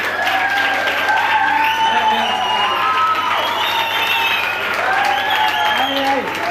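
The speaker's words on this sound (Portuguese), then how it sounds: "Palmas para a equipe vermelha." A crowd at a youth camp applauds and cheers for the red team placing third, with shouting and excited voices over steady clapping, loud and close throughout.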